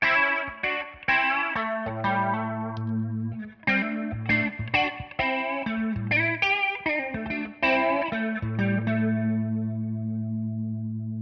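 Electric guitar through the rotary modulation effect of a Tonex 1.8 pedal, strummed chords and picked notes with a swirling, shimmering modulation, moderately loud and alone for about eleven seconds.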